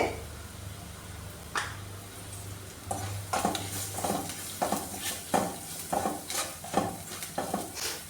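Spice powders, fenugreek and chili, stirred in a hot pan for a Kerala-style moru curry, with a steady low sizzle under a series of sharp spoon scrapes and clinks against the pan.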